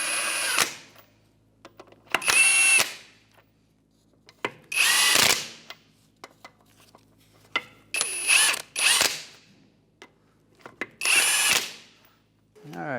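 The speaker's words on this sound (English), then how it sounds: "with a 21mm socket, we'll just snug these up" A ratcheting socket wrench with a 21mm socket snugs lug nuts onto a Hyundai Elantra front wheel. The ratchet clicks come in close, distinct bursts, separated by quiet pauses.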